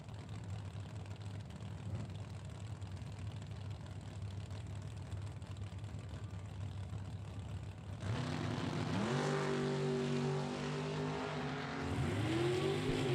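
Drag racing cars on a strip: a low idling rumble, then a loud roaring launch, followed by engines revving hard and shifting through rising and falling pitches as they accelerate away.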